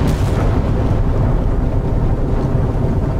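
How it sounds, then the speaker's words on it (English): A deep, sustained rumbling roar of a ship's magazine detonating in the naval combat game Sea Power, heavy low-end blast noise filling the whole moment without letting up. "And the mags have gone up."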